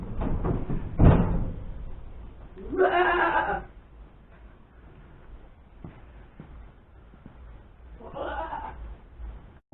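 Goats bleat inside a goat shed, two distinct wavering calls a few seconds apart over a low room rumble, with a knock or door bump early on.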